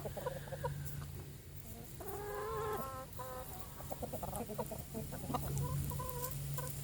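Backyard chickens clucking nearby, a run of low murmured clucks and a few sharper rising calls over a steady background hum, continuing throughout.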